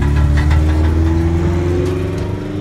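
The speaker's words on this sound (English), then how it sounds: "Got some cars still rolling in" Car engines idle and rumble at an outdoor car meet, a loud steady low drone with faint revving and vehicles rolling in nearby.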